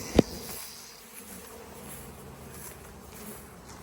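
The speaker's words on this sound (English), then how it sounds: "Got a bee on my hand." A honey bee buzzes close by during a summer honey harvest, a steady faint drone running through the whole stretch with a sharp tap near the start.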